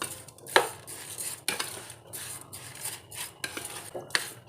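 Strawberries and sugar are stirred together in a pot for jam, giving a series of close metallic scrapes and clinks from a spoon against the pot, in irregular bursts with no talking.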